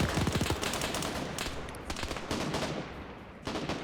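Bursts of machine gun fire from a military video game, several rapid rattling volleys of varying loudness spread across the span with brief gaps, no talk over them.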